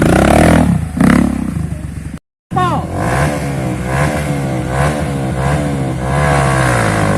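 A Honda CRF trail motorcycle revs loudly and close during a jump on a trail ride, engine rising and falling with a brief cutout, while people talk and exclaim over it.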